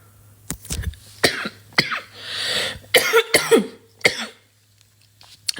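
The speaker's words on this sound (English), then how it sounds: "I don't know why I'm coughing like this." A person coughs in a string of harsh, separate bursts, some close together and some spaced apart, with throat clearing mixed in and a brief breathy stretch between them, loud and close.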